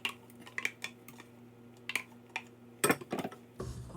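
Raisins blended with wine are stirred into Pernambuco-style wedding cake batter, giving scattered clinks and taps of a utensil against a bowl, with a short cluster of louder scraping knocks near the end.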